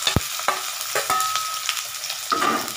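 Potatoes lightly frying in a wok for aloo dum, a soft sizzle broken by a few sharp spatula clinks and scrapes, close up with no speech.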